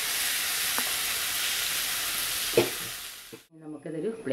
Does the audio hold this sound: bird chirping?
no